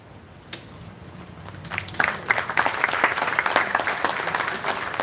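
Applause from a festival audience after a poetry reading at a literary festival starts with a few scattered claps and swells into steady, moderately loud clapping from the crowd that continues to the end.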